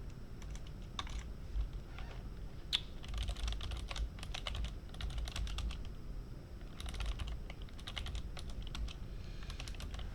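Code is typed on a computer keyboard in quick, irregular bursts of clicking keystrokes, close up and alone, separated by short pauses.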